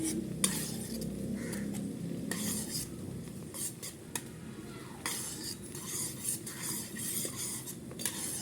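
Food sizzles and fries in a pan while a utensil stirs and scrapes it, with clinks of metal on the pan over a steady crackle, close and alone without talk.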